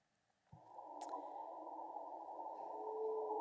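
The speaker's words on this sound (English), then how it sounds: "So those are right whale sounds." A North Atlantic right whale calls underwater: one long, sustained tonal moan that starts abruptly and holds steady for about three seconds, fairly loud and alone over a quiet background.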